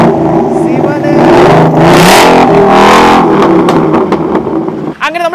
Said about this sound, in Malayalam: ഇതിന്റെ സ്റ്റാർട്ടിങ് നോട്ട്, ഇത് മച്ചാൻ ഒന്ന് സ്റ്റാർട്ട് ചെയ്യാം